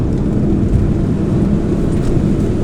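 An MG ZT with a 1.8 turbo engine is driven at full throttle in third gear, heard from inside the car. Its loud, steady, low engine drone rumbles continuously with no talking.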